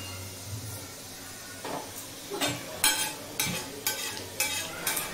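Cumin seeds fry in a little oil on a tawa for street-food ragda pattice, giving a low sizzle under repeated sharp scraping and stirring strokes from a spatula on the metal griddle.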